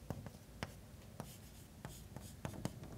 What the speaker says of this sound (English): So I guess I'll just write out our formula again.